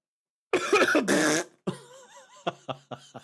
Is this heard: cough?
yes